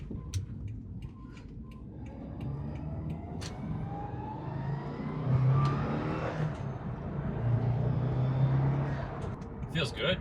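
A lowered Subaru WRX accelerates on a highway on-ramp, its engine note building steadily under low road rumble and wind noise, loud and continuous from inside the car, with a brief voice near the end.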